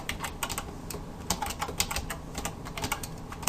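Rapid, irregular keystrokes on a computer keyboard while HTML form code is written, a steady stream of close, crisp clicks with no talking.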